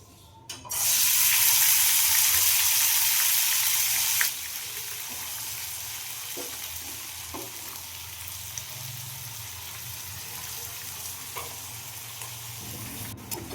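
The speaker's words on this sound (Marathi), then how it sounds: "तेल जास्त तापल्यामुळे थोडासा गॅस कमी करून घेते आणि आत्ता भाजी कढईमध्ये टाकते" Chopped dill greens drop into hot oil in a wok and burst into a loud, hissing sizzle for a few seconds, then settle into a lower, steady frying hiss with occasional stirring clicks; no one speaks.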